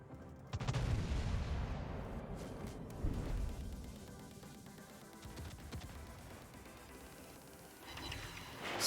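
Battleship main guns firing and shells striking a target in World of Warships, a heavy boom followed by a second deep impact and rumbling tail, with lighter crackling afterward.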